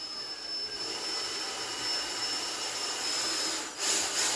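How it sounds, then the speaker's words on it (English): A drill bores slowly through a fiberglass hood on an R32 Skyline, making a steady high whine with a grinding edge, close up, that briefly dips before the end. "So we're going to go ahead and drill with the right size drill bit,"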